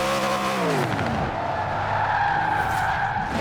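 Tires skid and squeal on a car in the racing video game Forza Horizon 4, a loud screech with sweeping pitch over a revving engine, sustained for several seconds without speech.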